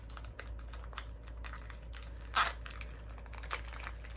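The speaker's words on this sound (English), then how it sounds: "Let's unpack first the atomizer." Packaging for a Puffco atomizer crinkles and rustles softly in a series of light taps and scrapes, with one louder tearing crunch midway.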